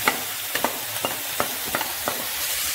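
Shredded radish stir-fried in a wok for radish cake gives a soft background sizzle broken by about six sharp spatula scrapes at an uneven, brisk rhythm.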